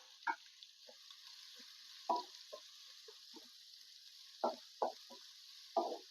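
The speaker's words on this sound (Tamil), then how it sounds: "வெங்காயம் நல்லா கோல்டன் ப்ரௌன் ஆகிற வரைக்கும் வதக்கணும்" Steady hiss of chopped onions sizzling in hot oil, broken by occasional sharp clicks and scrapes of a utensil stirring the pan.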